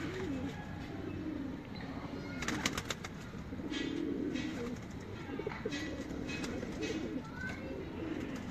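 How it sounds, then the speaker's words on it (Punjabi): Ali wala pigeon, a Sialkoti breed kept by a Faisalabad fancier, coos in a steady low rolling series close by, with faint chirps and other birds calling softly behind. "ਲਓ ਜੀ ਇਹ ਅਲੀ ਵਾਲਾ ਕਬੂਤਰ ਦੇਖੋ"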